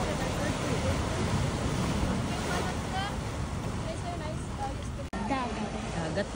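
Broad, steady wash of sea waves and surf with wind buffeting the microphone, with occasional faint voices underneath, during a 10 km road run.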